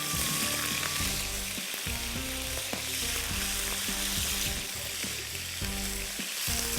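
Half a kilo of prawns fry on high heat in a hot pan, giving a loud, steady sizzle with crackling spatters that runs through the whole stretch without pause.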